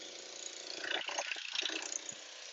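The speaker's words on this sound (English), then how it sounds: "You're going to see the boat that's making all that noise any second now" A heavily loaded boat passes slowly, its engine a faint, steady low chugging drone with light rattling, distant and continuous, with no talk.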